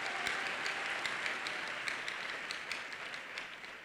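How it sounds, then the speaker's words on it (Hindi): Congregation applauding at a church session, a dense, steady wash of many hands clapping together at moderate distance, continuous for the whole stretch and slowly tapering near the end. "ताली बजा के परमेश्वर का धन्यवाद करें।"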